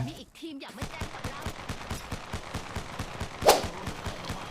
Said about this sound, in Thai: มันมีการกระโดดยิงด้วยครับ